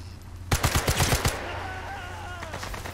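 Rapid burst of about seven gunshots in Sniper Elite 5, loud and close, fired in quick succession over under a second, followed by a ringing tail and quieter ambient game sound.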